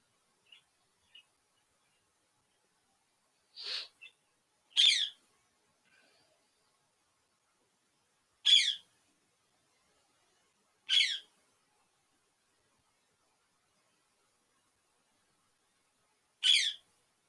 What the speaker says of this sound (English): Crazy freaking bird.